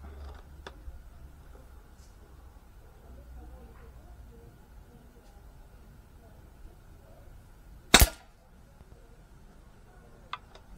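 A single sharp, loud crack of an air rifle firing a pellet rings out close by, cutting through a quiet room hum, followed later by a faint click.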